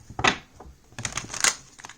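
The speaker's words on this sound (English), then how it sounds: "Let me shuffle one more time." Tarot cards being shuffled by hand, quick papery riffles and slaps in two short bursts, close and crisp with no talk.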